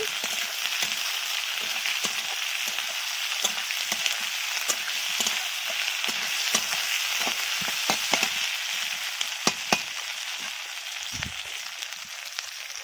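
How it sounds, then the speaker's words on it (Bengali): Ginger garlic paste sizzles loudly in a hot pan while a spoon stirs it, with steady crackling and frequent scraping clicks and taps throughout, close up and without talk. "এবারে আমি আদা রসুন বাটাটা দিয়ে দিচ্ছি ভালো করে নাড়াচাড়া করে দিচ্ছি"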